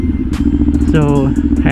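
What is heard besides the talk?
motorcycle engine warming up while riding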